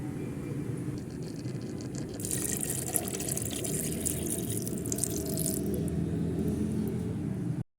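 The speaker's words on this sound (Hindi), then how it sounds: "अब मैं इसके अंदर डालूंगी पानी, आधा ग्लास।" Half a glass of water poured into a pan of fenugreek and potato curry, a steady close hiss and splash that grows brighter midway and stops abruptly at the end.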